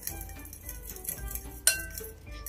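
Utensils clink against a bowl while chicken marinade is mixed with herbs and honey or soy sauce, giving light scattered taps and scrapes with one sharper clink partway through, close and fairly quiet.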